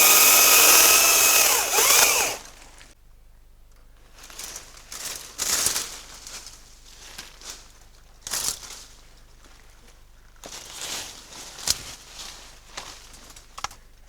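Pruning an Afourer orange tree: a loud burst of cutting noise opens, then sharp isolated snips and crackles of a tree limb being cut and handled, with quiet gaps between them.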